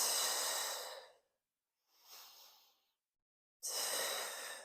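Someone breathes in a Pilates stretch on a mat: a long loud breath, a softer one, then another strong breath, close and with no other sound.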